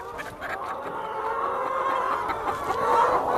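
Chickens clucking in a poultry house, a dense chorus of overlapping clucks and murmurs from many birds at moderate distance, continuous and without voices.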